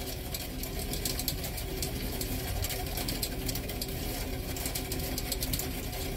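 A salvaged 36V hoverboard hub motor, turned by bicycle pedals at 60 rpm as a generator, gives a steady, even mechanical hum and whir that holds one level throughout with no talking.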